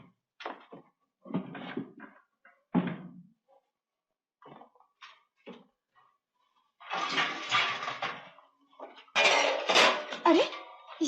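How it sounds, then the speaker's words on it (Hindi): Metal pots, pans and utensils are dragged and piled in a home in a 1953 Hindi film, clanking and scraping in irregular bursts, with a voice speaking briefly between the rattles. "सारे बर्तन क्यों घसीट रहे हो?"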